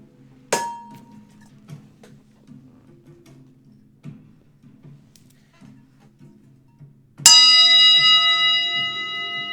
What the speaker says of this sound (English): And the initial chime lasts forever.